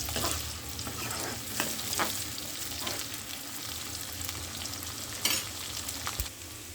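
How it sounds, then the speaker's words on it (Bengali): Ramen ingredients stirred in oil in a frying pan, with a steady sizzle and scattered spatula scrapes and knocks at a moderate, close distance, no voices. "ভালো করে এগুলো নেড়ে চেড়ে নেব।"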